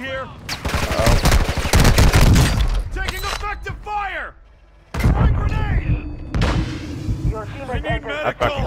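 Video game gunfire in a multiplayer shooter, with loud rapid bursts and bangs, shattering impacts and whizzing sweeps, broken by a brief near-silent gap before the shooting resumes heavily.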